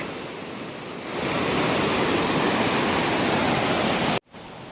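A steady, loud rush of flowing water fills the scene, swelling after a second and cutting off abruptly near the end.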